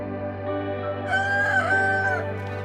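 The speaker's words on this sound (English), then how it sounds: "The chickens were finishing off the last of the rotten pumpkins." A rooster crows loudly and close by on a homestead, while chickens cluck in the background over a low steady hum.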